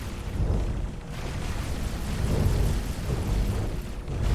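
A ship explodes in a space combat video game played with flight sticks: a deep, sustained rumbling blast rolls on for several seconds, loud and continuous with low boom swells, and no talk over it.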